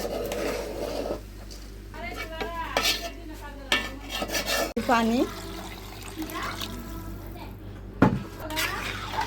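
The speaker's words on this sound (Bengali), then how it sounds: "চালগুলো দিয়ে মাংসের সঙ্গে আমি ভালো করে নেড়ে ছেড়ে দিচ্ছি" Rice is stirred into meat in a cooking pot for biryani, with scraping spoon strokes, clinks against the metal and watery sloshing, while people talk over it.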